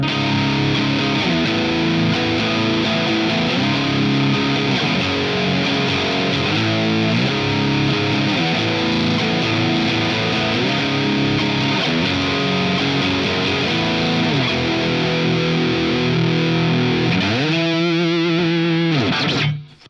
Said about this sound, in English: with the distortion fully up